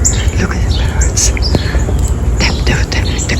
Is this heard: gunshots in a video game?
no